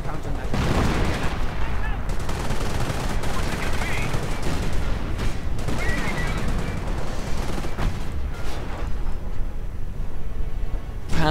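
A Panther tank firing in a war strategy video game fills the clip with loud, continuous battle noise: dense gunfire, booming shots and crackling explosions run throughout without a break.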